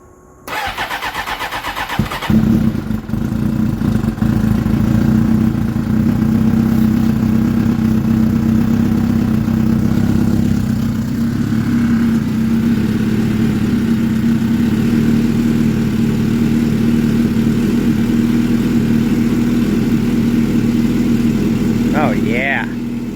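Honda motorcycle engine cranking briefly, catching and starting, then settling into a steady, loud, close idle that runs on at an even rumble.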